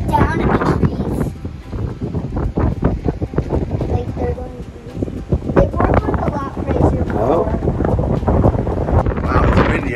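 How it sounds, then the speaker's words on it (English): Strong wind buffets the microphone out on a balcony overlooking a pool and trees, with loud gusting rumble and blasts throughout and a voice speaking under it. "Wow, it's windy out here."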